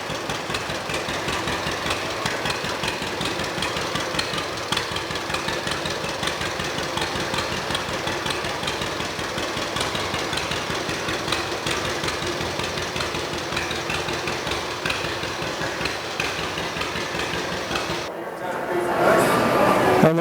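A 1927 one-and-a-half horsepower E stationary engine runs steadily with a fast, even chugging and knocking, loud and close, before a sudden change in sound at the end, at an antique farm equipment show.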